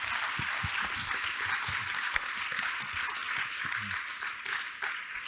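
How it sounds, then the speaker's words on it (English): Audience applauding a longevity forum business innovation panel, dense clapping filling the room steadily with a few sharper claps, sustained throughout with faint background voices. "Please, everyone, give them a wonderful round of applause."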